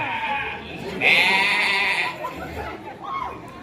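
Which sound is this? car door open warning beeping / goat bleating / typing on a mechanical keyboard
goat bleating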